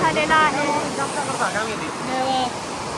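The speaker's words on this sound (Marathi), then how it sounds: "तिकडे धबधबा आहे" A waterfall roars as a constant broad rush, with people talking over it close by.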